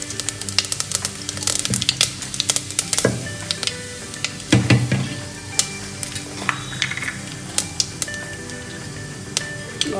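Mustard seeds and cumin hitting hot ghee, crackling and popping in sharp irregular bursts over a soft sizzle, close and fairly loud, with occasional clinks and no voices.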